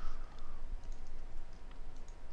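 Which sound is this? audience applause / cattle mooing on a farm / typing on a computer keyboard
typing on a computer keyboard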